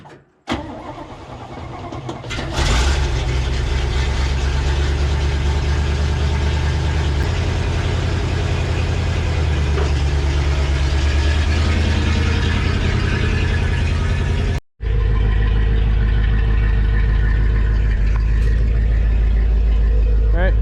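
A Chevy C50 wrecker truck with a Holmes 475 body idles loudly and steadily after a brief start, its low engine rumble continuous through most of the stretch with a short break, while people talk nearby.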